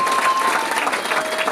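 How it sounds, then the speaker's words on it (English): An audience at a charity benefit show in the Orpheum Theater breaks into loud, continuous applause mixed with crowd noise and a faint whistle. "Give them Orpheum Theater a round of applause for letting us come here in their space on a Monday."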